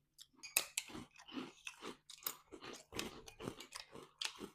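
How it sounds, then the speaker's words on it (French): Crunchy Golden Grahams breakfast cereal chewed close up, a steady run of loud crisp crunches and bites following one another without pause. "On passe à la dégustation des Golden Grams."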